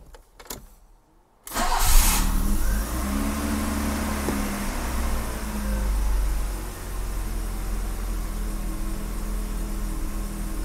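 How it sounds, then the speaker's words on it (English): A 1984 BMW E30 318i with fresh spark plug wires is started cold after a brief crank, then settles into a steady, close idle with slight rises in engine speed, no one speaking. "Let's fire this thing up, see how it does on cold start."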